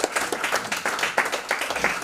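Seated attendees at a wildlife conservation symposium give a short round of light clapping, scattered claps blending into a soft, steady patter.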